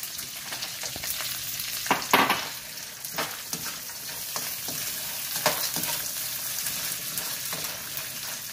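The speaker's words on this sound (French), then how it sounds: "nous allons faire frire, revenir les amandes quelques minutes" Almonds frying in a pan for a pastilla, a steady close sizzle of hot oil with occasional stirring scrapes and clinks throughout.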